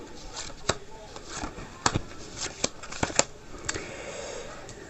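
Tarot cards are shuffled by hand in a series of crisp riffles and slaps, irregular sharp clacks close by over a soft rustling background.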